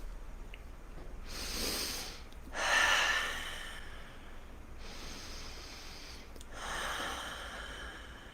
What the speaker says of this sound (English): I'll take a couple deep breaths because I love doing it.